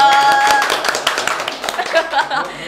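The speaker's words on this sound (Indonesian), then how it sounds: "Tepuk tangan dong." A few people clap together in a podcast studio, quick irregular hand claps close to the microphone, mixed with talking and laughter throughout.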